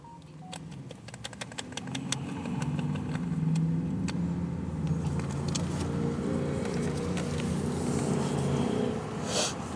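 Pickup truck engine running with a lifter about to fail, a steady low idle rumble overlaid with irregular ticking and tapping that grows busier as the engine settles, close and continuous.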